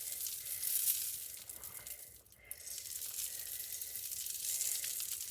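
Sprinkles are scattered onto a craft lollipop made with Mod Podge, giving a soft, continuous hissing patter with a brief pause in the middle, faint and close, with no talk.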